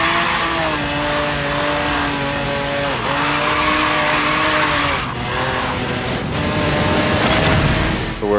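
A car drifting in Forza Horizon 3 during a Hot Wheels campaign sprint, with a loud sustained engine roar shifting in pitch alongside continuous tire squeal and skidding.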